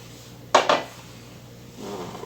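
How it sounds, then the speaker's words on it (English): Avocado oil goes into a heated wok, with two quick metallic clunks close by followed by a faint, rising sizzle over a low background hum. "I do have my wok here and it is already heating up, so we're going to go ahead and add some oil here."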